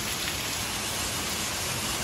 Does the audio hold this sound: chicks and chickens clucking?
no